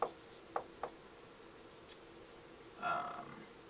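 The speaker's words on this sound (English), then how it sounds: "I'll write them down here" Pen writing chemistry ions by hand on paper, a few soft, close scratching strokes and brief scribbles, with a slightly longer rubbing stroke near the end, quiet and without speech.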